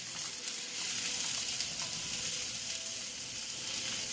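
Shrimp and vegetables sizzle in a pan while being stir-fried for noodles in white sauce, a steady, bright, crackling hiss that holds at an even level throughout.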